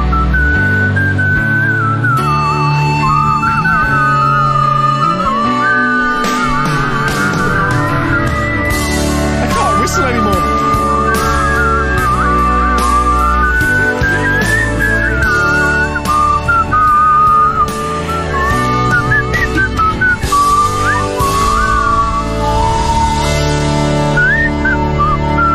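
Bright melodic whistling runs over a full band backing, a clear tune weaving up and down throughout the song's closing section.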